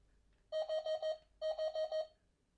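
Two quick sets of bright electronic beeps from a WowWee Mintid Dog-E robot toy dog, four rapid pulses in each, clear and close against a quiet background.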